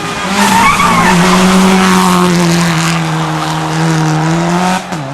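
A rally car at the Safari Rally Kenya skids through a hairpin turn among trees, tires squealing in a long sustained screech over a loud engine drone, close and intense before tapering off.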